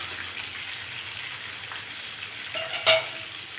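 Eggplant bajji frying in hot oil, a steady close sizzle throughout, with a brief louder clatter near the end.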